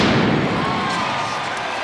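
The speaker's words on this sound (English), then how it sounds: "And there's your cannon, your explosion, and a touchdown" A cannon blast set off after a touchdown at an arena football game between the San Diego Strike Force and Arizona Rattlers, a loud booming burst that fills the arena and blends into a roaring crowd, under commentary.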